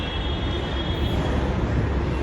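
A Delhi Metro train at Ramakrishna Ashram Marg station gives a loud, steady rumble with a faint high whine, continuous and close, with no talking.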